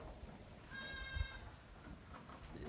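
A Boer goat lets out one drawn-out, nasal bleat at moderate distance, rising above a quiet farm background with no talking.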